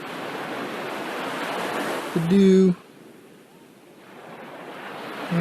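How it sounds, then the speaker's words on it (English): Underwater ambience in an Altspace VR virtual world while scuba diving: a steady rushing, surf-like wash that briefly drops quieter and then swells again, with a short spoken phrase partway through. "So now I am under the water, doing a little scuba diving when I went into that little underground area."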